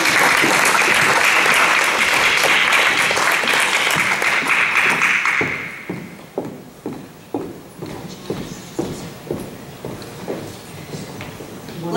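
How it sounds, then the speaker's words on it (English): A school board meeting audience bursts into loud, dense applause that thins out after about five seconds into a handful of separate, scattered claps echoing in the room. "Let's give them all a great big round of applause."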